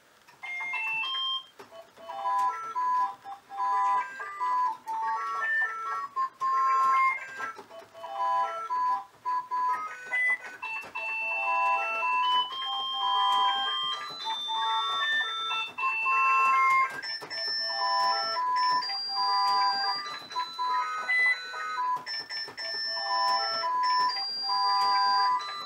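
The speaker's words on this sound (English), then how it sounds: "I can play my theme song with the Tenortech multimeter beep." Sampled multimeter beep played as a melody on a MIDI keyboard built from a broken keyboard, a quick run of short electronic tones stepping up and down in pitch, steady and clear with brief gaps between phrases.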